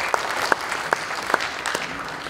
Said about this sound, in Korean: 박수 한번 만수무강하시라고 좀 박수 한번 쳐드리세요.